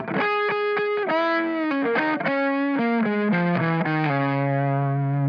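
A noisy, distorted electric guitar plays a phrase of sustained notes stepping downward, bright and buzzy with chorus-like shimmer, loud and continuous with no talking.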